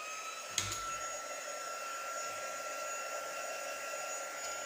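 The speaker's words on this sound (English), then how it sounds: "Now I'm going to get my embossing tool, and this is going to make a little bit of noise" A steady heat embossing tool blows hot air, whirring continuously at close range after a small click at the start.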